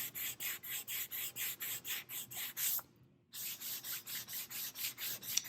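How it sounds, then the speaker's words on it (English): Wood is hand-sanded with sandpaper during a Minwax tung oil finish, producing rhythmic back-and-forth rasping strokes about twice a second, close and steady, with a brief pause before the strokes resume; no one speaks. "I wipe off my sandpaper too as I wipe off the top"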